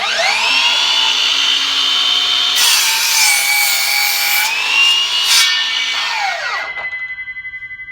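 A handsaw cuts through a wooden board set snug against an angled jig, rasping steadily and loudly for several seconds before the strokes trail off into silence.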